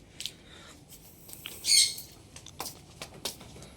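Pigeons in a loft stir as its door is lifted, with scattered wing flaps and brief rustles, one louder burst of flapping in the middle, and faint clatter around it.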